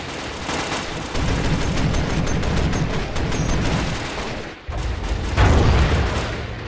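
Close bursts of gunfire from someone shooting, dense broadband cracks running nearly continuously with a short gap before a louder volley, with no talk.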